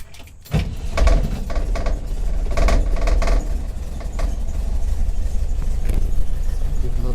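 A 1969 VW camper engine runs close by, a rough steady idle with a few sharp throttle blips and clattery mechanical noise, starting after a moment of quiet.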